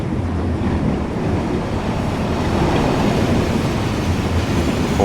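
A Class 47 diesel hauls a TEA tanker train past on the WCML at Shap in Train Sim World, making a continuous rolling rumble of wheels and wagons that stays steady throughout, with no speech.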